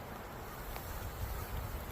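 A honey bee swarm settled in an apple tree hums as a faint, steady low buzz outdoors, continuous and even with light background noise.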